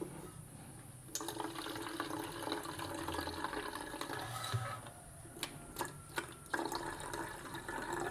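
Water being poured into a 100 ml shampoo mixture to make up 400 ml for a jet cleaner solution, a steady trickling stream with several brief clicks and shifts in flow, close and fairly quiet.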